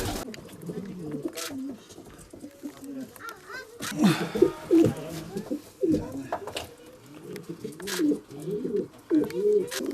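Racing pigeons of the world's fastest breed coo in soft, repeated low murmurs throughout, with occasional wing flutters and a burst of louder activity midway; people talk intermittently over the birds.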